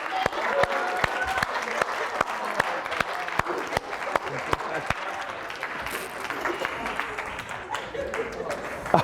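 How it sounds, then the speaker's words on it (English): An audience at a motivational talk for an Upward Bound program at Jacksonville University gives a moderate round of applause, with distinct scattered claps over a softer crowd bed and a faint murmur of voices. "Give him a round of applause."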